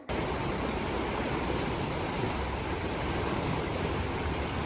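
Water of the flooded Thootha river rushing at Karalmanna Kalikkadavu near a pump house, a steady, dense roar of flowing water with no pauses, close and unbroken throughout.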